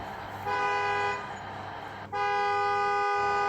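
A car horn gives two sustained honks close by, the second longer than the first.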